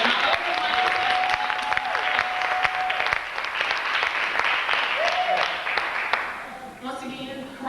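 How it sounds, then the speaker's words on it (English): Sustained audience applause at a poetry and punch event by a writers' group, dense and steady clapping with a few whoops over its length, fading slightly near the end. "Give everyone a round of applause."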